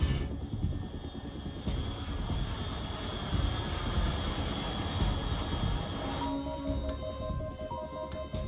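A low, steady aircraft engine drone rumbles continuously from the Metal Gear Solid 3 game, with a few synthetic tones and beeps joining near the end.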